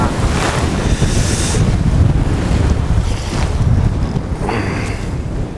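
Strong wind roars across open water during a boat fishing session, with steady buffeting and wind noise on the microphone over waves, loud and continuous throughout with no voices.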